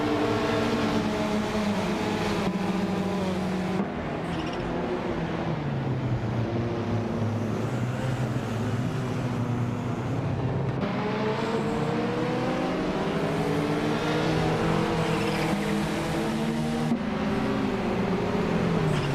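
Race cars driving in a racing video game, steady engine drone with rising and falling pitch as cars accelerate and shift, several engines blending together continuously and fairly loud throughout.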